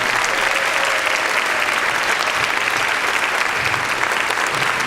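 Loud, continuous audience applause for circus and acrobatic performers at a live show, steady clapping from a large crowd throughout.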